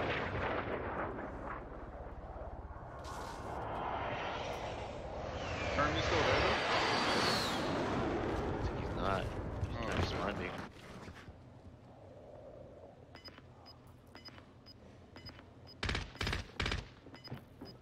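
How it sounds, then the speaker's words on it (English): Video game gunfire from rifles such as an M16 rattles in dense bursts with booming explosions for about ten seconds. It then quiets to a few sharp, close shots near the end, with muffled voices underneath. "Yep, he's shooting at me."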